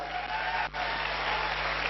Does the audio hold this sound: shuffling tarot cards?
no